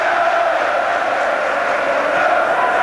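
Large football crowd at the Hawthorns, West Bromwich Albion's stadium, in the 2000/01 season: a dense, steady roar of a near-full house, loud and continuous with no breaks.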